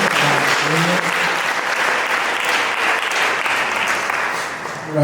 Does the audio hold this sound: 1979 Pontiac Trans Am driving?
no